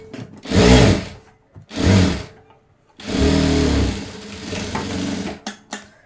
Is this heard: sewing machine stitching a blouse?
yes